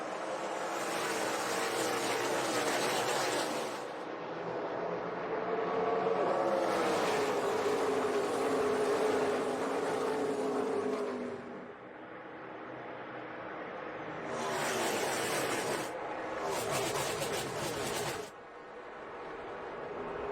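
NASCAR stock cars roar at the start of the Hollywood Casino 400 at Kansas, a pack of engines whining loudly, swelling and fading in waves as they pass by, with brief quieter gaps between the surges.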